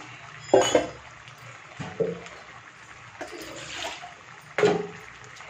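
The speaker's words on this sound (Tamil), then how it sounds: "கொஞ்சம் கழுவி ஊற்றிக்கலாம்." Rinse water and lentils poured into a cooking pot for sambar, sounding as a few close, soft sloshing pours and splashes separated by quieter pauses, with no talk over them.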